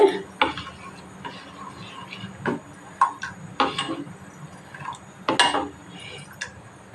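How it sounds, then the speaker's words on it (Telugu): Beetroot vadiyalu mixture being stirred in a pot: irregular clinks and scrapes of a spoon against the metal, close and fairly loud, with no talking. "ఇలా కలుపుతూ ఉండాలండి"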